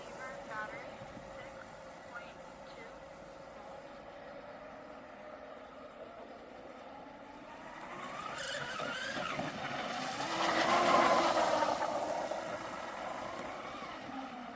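A Proboat Mystic 29 RC catamaran with a carbon fiber canopy runs a lap on water, its high motor whine faint at first, then swelling and passing nearer before easing off, with a person talking at moments.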